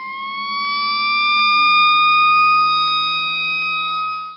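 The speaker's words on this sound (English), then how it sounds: "Fire engine." A fire engine siren wails loud and close, a sustained rising then slowly falling electronic tone with strong harmonics and faint engine rumble beneath.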